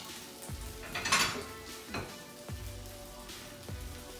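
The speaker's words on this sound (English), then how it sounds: "when I turn these potatoes, I'm gonna break them up in different sections in order to turn them right" Potatoes for a hash brown bowl are turned and broken up in a skillet, with a few distinct scraping and clanking strikes of a metal utensil against the pan over a faint background sizzle.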